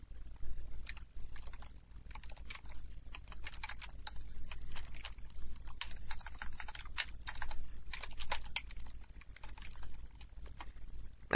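Code being typed on a computer keyboard: a close, continuous patter of rapid key clicks with brief pauses, over a low background hum and no speech.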